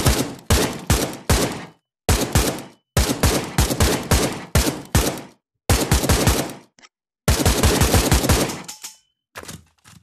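Rapid bursts of automatic AK rifle fire in Pavlov VR, loud and close, coming in repeated volleys separated by short pauses, with no talking.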